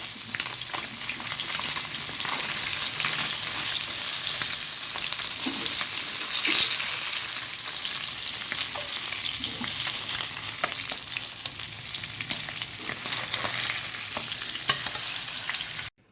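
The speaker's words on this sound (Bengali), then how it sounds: "মাছগুলো লাল লাল করে ভাজা হয়ে গেছে" Small puti fish fry in hot oil in a pan, giving a steady, loud, continuous sizzle and crackle that lasts throughout with no voices.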